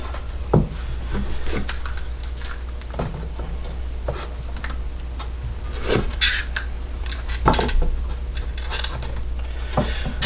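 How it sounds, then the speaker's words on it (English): Spring clamps and clamping cauls being fitted onto a wooden instrument's tail and neck blocks, giving a few sparse wooden clicks and knocks over a steady low hum and soft rubbing. "So I'm just going to use spring clamps and clamping cauls."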